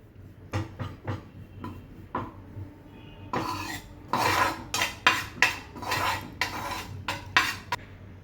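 Gram flour dry-roasting in a pan over a low flame, a series of crisp metal spoon scrapes and taps against the pan in uneven bursts, with no talk.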